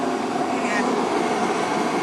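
A loud, steady whooshing roar like a blower heater running close by in a cold workshop, constant and broadband throughout.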